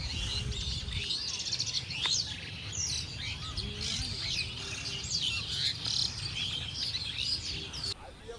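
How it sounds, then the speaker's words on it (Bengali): Many birds chirp and twitter busily from an acacia tree nearby in a flooded village, overlapping high calls over a low hum of outdoor background noise. "এই বাবলা গাছটাতে কেমন পাখি ডাকছে শোনো"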